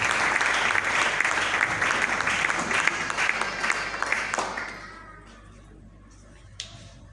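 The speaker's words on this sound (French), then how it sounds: "nous applaudissements maintenant." An indoor audience at a book launch claps warmly for about four seconds. The applause then dies away into near quiet, broken by a single faint knock.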